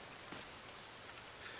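Rain falls in the survival video game The Forest, a soft, even, steady hiss of drops that continues without a break and with no talk over it.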